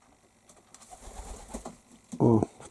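Quiet rustling and faint shuffling as a homing pigeon flies in, then a single loud, close pigeon coo near the end.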